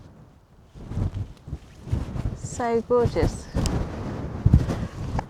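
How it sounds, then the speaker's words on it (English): Cold wind buffets a microphone on a mountain summit among the Lake District fells near Bowfell and Crinkle Crags, with low rumbling gusts rising and falling under a person speaking. "It's a little bit cold and windy on here."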